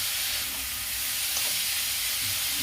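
Grated beetroot and carrot fry on a high flame with a steady, dense sizzle and hiss, close and continuous, with faint stirring underneath.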